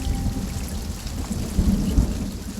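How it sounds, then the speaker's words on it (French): First rain shower at a high-altitude gold mining camp in the Ecuadorian Andes, steady rain hiss with low rumbling thunder underneath, close and continuous. "Première averse."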